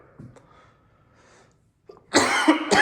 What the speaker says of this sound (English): I'm gonna have a coughing jag